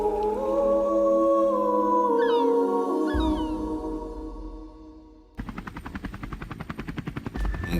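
A helicopter hovers over dense forest in the Rann of Kutch wildlife sanctuary near the Pakistan border, its rapid rotor chop beating loudly and steadily after a swelling dramatic musical tone fades out.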